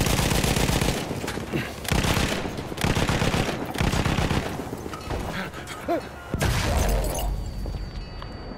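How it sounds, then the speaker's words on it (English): Battlefield 1 artillery barrage: repeated heavy blasts and rattling gunfire come in loud waves across the whole stretch, with brief lulls between bursts and faint voices mixed in. "Artillery barrage."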